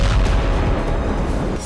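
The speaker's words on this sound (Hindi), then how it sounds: "देखिए कैसे जोरदार धमाका हुआ। ये रशियन फोर्स की माइंस का असर है।" A Russian mine goes off during testing, producing a loud, rumbling blast with heavy low-end roar that sustains and rolls through the whole short moment.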